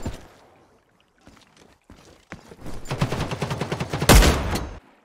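Rapid gunfire in the shooter game The Cycle: Frontier starts with scattered single shots, then builds into a fast, loud volley that ends with one heavy blast and a sudden stop.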